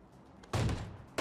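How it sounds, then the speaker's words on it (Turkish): In PUBG Mobile, gunfire comes from the side of a house as a single muffled, distant-sounding burst of shots, followed by a brief quieter stretch and then the start of another shot. "Ev tarafından bana sıkıyor"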